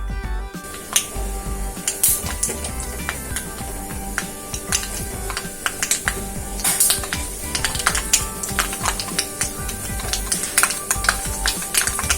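Mustard seeds pop and crackle in hot oil for Onam sadya puli inji, dense irregular clicks and sharp pops bursting close and continuously over a low sizzle.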